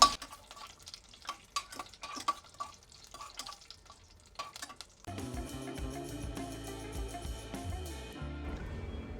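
Cashew nuts fry in a pan for Tamil-style pudina mint rice, an intermittent soft stirring at first, then a steady louder sizzle taking over for the rest.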